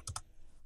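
Two quick, close keystrokes on a computer keyboard, a crisp pair of clicks in rapid succession, then quiet.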